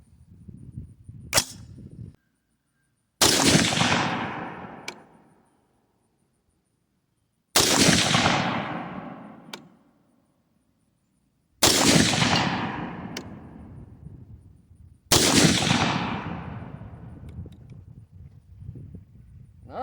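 An AR10 rifle in 22-250 fires Hornady 55-grain soft points over an Accurate 2520 load: several sharp, loud shots spaced a few seconds apart, each followed by a decaying echo, with a fainter pop or two between them.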